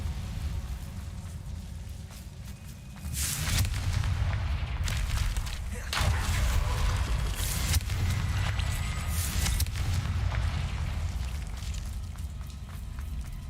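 A Confringo blasting spell explodes in the Hogwarts Legacy video game with repeated heavy booms and rumbling bursts, loud and close, the blasts spaced a few seconds apart over ongoing game noise.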